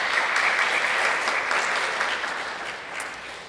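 Audience applause at a graduation ceremony: a dense, steady roar of clapping from a large crowd that slowly tapers toward the end, with a faint voice or two underneath.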